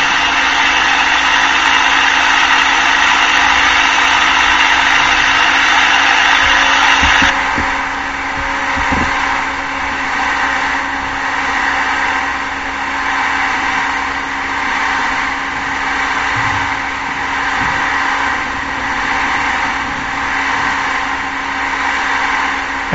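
The engine of a Cessna 172 light aircraft drones steadily in flight beneath low clouds in turbulence, loud and continuous, with a brighter roar for the first several seconds that then settles to a lower, even hum.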